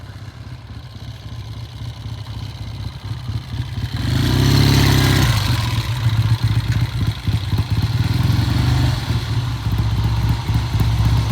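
A Triumph TR6 engine drones steadily while the car drives down the road, growing louder and rougher as it accelerates midway and then holds a throaty, slightly uneven note.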